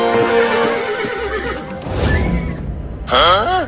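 A cartoon horse gives a loud, close whinny near the end, a rising and falling neigh that follows a stretch of animated voices talking.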